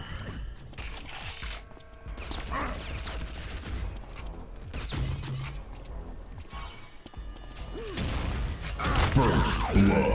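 Rapid bursts of gunfire and explosions from Unreal Tournament 2004 played on an HP Compaq nc8430 laptop, a dense, busy mix of repeated shots and thuds that swells louder toward the end.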